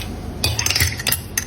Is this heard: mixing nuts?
yes